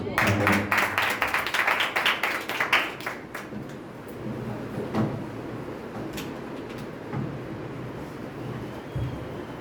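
A church congregation claps loudly at the close of a sermon, a burst of dense, rapid applause for about three seconds before it thins out and the room settles into a quieter murmur.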